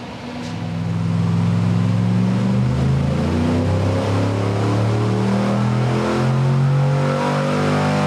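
A 383 small block Chevy V8 warms up and revs, a loud close engine whose pitch climbs and falls in several throttle sweeps over a steady rumbling idle, with no talking.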